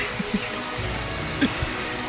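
Clear water flows steadily in a Konkan garden among coconut and jackfruit trees, a continuous close gurgle with a few small splashes and bubbly bursts over the two seconds.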